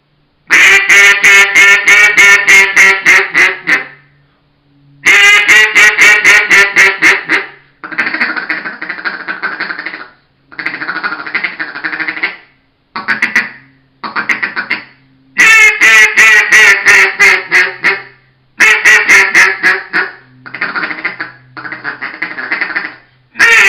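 A hand-blown duck call imitating ducks: loud, close sequences of raspy quacks in rhythmic bursts, long descending runs alternating with short clipped feeding-style notes, separated by brief pauses.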